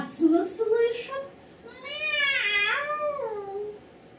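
A human voice imitates a cat, giving a few short meows followed by a long, wavering, drawn-out meow, close and fairly loud.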